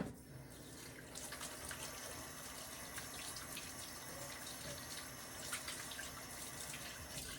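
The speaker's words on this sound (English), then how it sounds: "Wash my hands real good." Hands being washed under a running kitchen tap, a steady hiss of water with a few splashes and clinks, moderately close and continuous, no talking.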